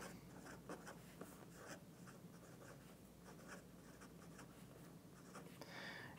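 A fountain pen fitted with a 1.1 millimeter stub nib writes across paper, giving a steady, quiet scratchy rasp with short stroke bursts that run unbroken for several seconds, close and soft, with no talking.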